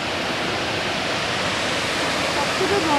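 Perwaghagh Waterfall keeps up its steady, forceful rush of falling water through winter, heard as a loud, continuous broadband roar close by with no break across the whole stretch.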